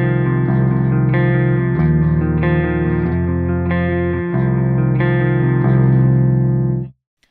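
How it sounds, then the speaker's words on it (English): Clean electric guitar through an Axe-Fx III with the neck pickup of a PRS SC245 guitar, playing a steady sequence of ringing chords with no grit and a short tail before the sound stops. "So that is the clean sound"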